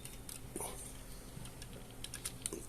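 Small plastic clicks and snaps as a plastic Optimus Prime toy figure is folded and transformed, scattered light ticks close by and quiet, with no talking over them.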